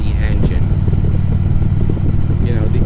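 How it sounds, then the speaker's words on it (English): A motorcycle engine runs steadily and loudly at close range with a constant low rumble, heard under speech. "This engine is real happy when it's doing this, when it's got the air blowing on it."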